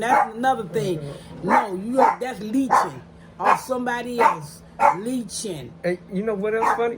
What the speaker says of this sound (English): That's my dog, y'all. She barking, telling us to go